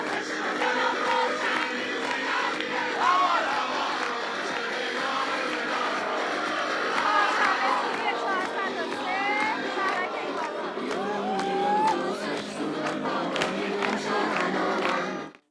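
A large protest crowd in Tehran, Iran, a dense continuous roar of many voices shouting and chanting, loud and sustained throughout, with no clear break.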